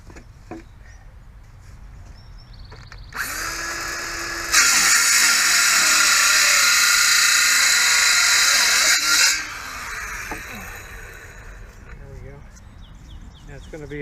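An 18-volt portable radial saw cuts through wood during fence repairs, a loud steady whine of about five seconds that rises in pitch, then drops away, with the motor running before and after.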